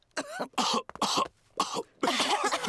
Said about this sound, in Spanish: Los adultos se contagiaron de la tos